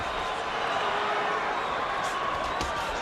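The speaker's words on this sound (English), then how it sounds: "Crowd is chanting, Oscar," A dense, roaring boxing crowd at the Bernard Hopkins versus Oscar de la Hoya world middleweight title fight, a steady wash of massed voices that could be chanting Oscar's name, loud and continuous throughout.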